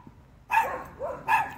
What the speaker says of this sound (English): Don't mind the dogs. They're barking at the neighbors across the property.